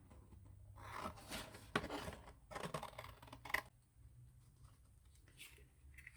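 Close, quiet snips and rustles of scissors cutting paper for a collage come in short irregular bursts, with crinkling paper handling between cuts.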